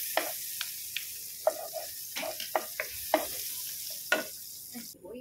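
Butter and aromatics frying in a pan for chicken curry, a low steady sizzle broken by repeated sharp stirring and scraping clicks at an uneven rhythm, close by with no talk.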